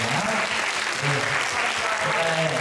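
A church congregation claps together in steady, dense applause, loud and continuous throughout, with voices mixed in underneath.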